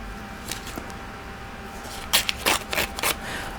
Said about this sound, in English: So I need to tear him across there.